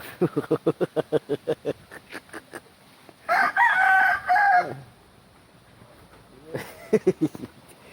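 A rooster crows loudly nearby, once in the middle and again near the end, after a run of rhythmic clucking-like calls at the start.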